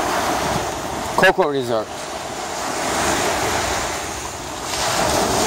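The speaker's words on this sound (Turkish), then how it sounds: "We are waking up with the wave sounds." Ocean waves washing onto a beach at Coco Resort on Koh Rong, a steady broad surf roar with wind buffeting the microphone, and a brief spoken phrase near the start.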